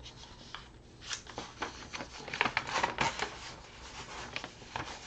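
A pen writes and scratches on paper in quick irregular strokes, close and dry, with short bursts of scribbling and no voices over it.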